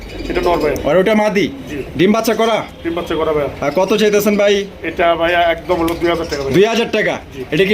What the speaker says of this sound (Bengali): এখানে রয়েছে আরো একজোড়া হাই ফ্লাইং গিরিবাজের কালেকশন দেখতেই পাচ্ছেন